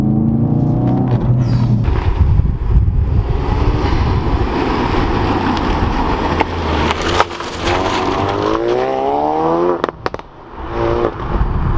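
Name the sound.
Ford Focus RS exhaust popping and crackling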